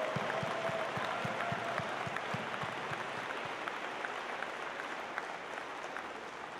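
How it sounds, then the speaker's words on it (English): A large crowd applauds in a basketball arena during the opening ceremony of a FIRST robotics district event, the clapping a soft, even, far-off wash that fades slightly toward the end. "let's give a huge round of applause to the folks from Penn High School"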